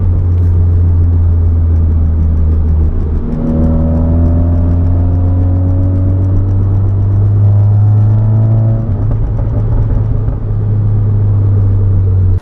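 A VW MK7 GTI driving on the road after wheel bearing replacement, a loud constant low rumble of road and tire noise with engine tones rising and falling as it accelerates.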